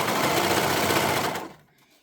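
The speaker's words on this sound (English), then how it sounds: "So I choose to use my serger." A serger finishing raw fabric edges runs in a fast, even mechanical rattle of stitches, close and loud, then winds down and stops near the end.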